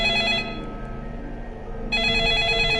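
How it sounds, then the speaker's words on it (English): A telephone ringing inside a video game: an electronic ring burst, a short gap, then the ring starting again, loud and close, with no voices over it. "The sudden ringing of the phone startled everyone in the room."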